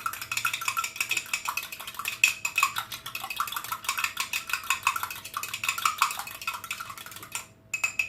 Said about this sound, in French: rajouter mon jaune d'œuf dans mon eau, et je bats légèrement juste pour avoir un mélange homogène